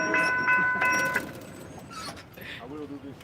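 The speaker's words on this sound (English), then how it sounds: "you got a train departing now." A train departing on tracks at a railfan trackside spot by a road crossing, with a steady rumble, tonal horn-like whine early on and rolling rail noise, while people talk over it.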